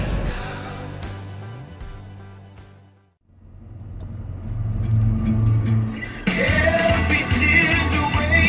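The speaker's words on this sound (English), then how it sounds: "There's a car coming." A car passes on a road, its engine rumble rising after a brief lull and growing louder as it nears, with wind noise and other traffic sounds around it.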